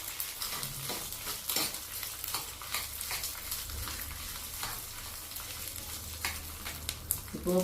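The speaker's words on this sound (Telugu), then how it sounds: "ఇప్పుడు మనం ఎల్లుల్లిపాయ ముక్కలు వేసేసుకుందాం." Garlic pieces fry in a hot oil tempering with browned fenugreek seeds, giving a loud continuous crackling sizzle punctuated by repeated scrapes and clinks of stirring, close up and without talking.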